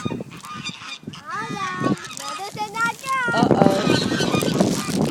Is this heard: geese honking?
yes